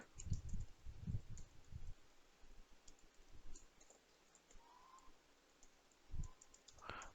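Quiet, close keyboard clicks come in short clusters as Python code is typed on a computer keyboard, with a few pauses between bursts.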